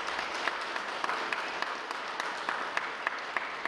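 An audience at a concert marking the centenary of Yakutia's permanent representation claps in sustained, steady applause, dense and fairly loud, with no voices above it.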